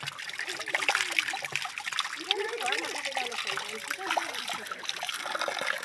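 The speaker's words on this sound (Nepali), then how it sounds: "यो चाहिँ खाने पानी नै हो" Drinking water trickles steadily from a spring outdoors, a continuous close, bubbling dribble with light splashing that runs the whole time beneath a faint voice.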